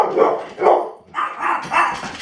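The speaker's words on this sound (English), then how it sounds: "The dogs went nuts." Dogs barking indoors in several loud, close barks, a pair of barks followed by a short pause and then a quicker run of barks, with no talk over them.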